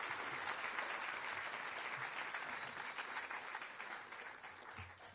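Sustained crowd applause at a school awards ceremony congratulating six-year students, dense and even clapping throughout that tapers slightly toward the end.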